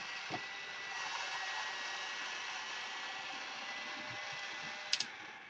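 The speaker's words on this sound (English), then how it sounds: "although very noisy, Trypticon can walk along" The battery-powered walking motor of a Trypticon toy robot whirs continuously with a buzzy mechanical drone, punctuated by a few light clicks and taps near the end.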